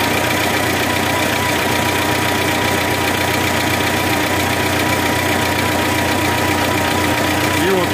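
A tractor engine runs steadily at idle, loud and close, while a hydraulic front blade is raised and turned; a continuous low drone with hydraulic whine, with a voice speaking over it.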